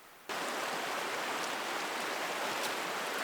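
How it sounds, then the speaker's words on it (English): A swollen creek on public hunting land, running high like a small river, sets in suddenly as a loud, broad rushing roar of flowing water that holds steady to the end. "It was a borderline creek. Now it's a full-on, almost a river."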